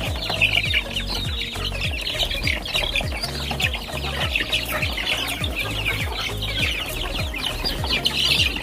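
A flock of chickens clucks and squawks steadily at feeding time, a busy chorus of overlapping calls close by with no talk.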